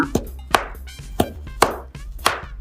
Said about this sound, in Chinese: 然后切成5厘米厚的片，再切成条